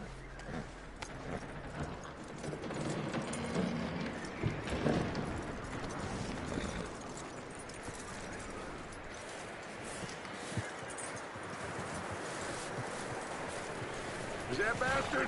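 Horse hooves clip-clop steadily in Red Dead Redemption, a moderate rhythmic patter with occasional mechanical clinks, beneath people talking.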